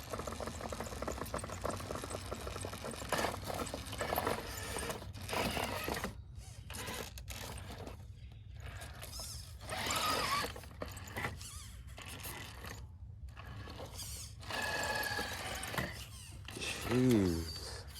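A malfunctioning servo motor on a robot grinds and whirs in uneven bursts, stopping and starting with short silent gaps and a rising whine near the end, close and fairly loud.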